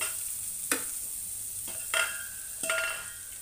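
Butter sizzles in a pan for a chicken dish, a soft steady frying hiss broken by three or four sharp clinks and scrapes of a utensil against the pan; no talking.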